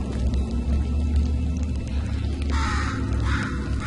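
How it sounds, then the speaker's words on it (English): A crow in the video game Portal 2 gives two harsh caws late in the clip, moderately loud over a constant low ambient drone. "A crow?"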